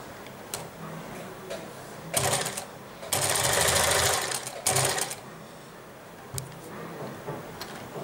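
A sewing machine stitches fabric for a drawstring bag close by, running in short bursts of rapid whirring with a longer run in the middle and quiet pauses between.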